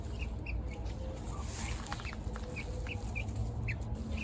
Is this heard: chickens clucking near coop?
yes